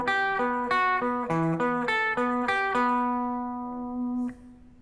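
Clean electric guitar playing a quick string-skipping alternate-picked lick, a run of distinct single notes in an even rhythm that ends on a held ringing note, alone with no talk.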